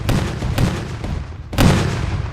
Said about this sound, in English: cannons will start to fire.